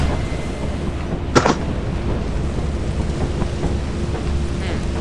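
Steady rain hisses over a deep rumbling background in Lethal Company, with a sharp crack of thunder near the start and faint intermittent ticks, loud and continuous with no voices.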